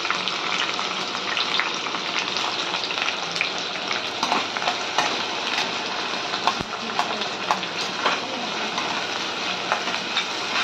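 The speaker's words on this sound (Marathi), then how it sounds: "चला याच्यात आपण कांदा, मिरची, कढीपत्ता टाकून घेऊया" Onion, green chili and curry leaves frying in hot oil in a pan, a steady dense sizzle with crackling pops throughout, close and continuous.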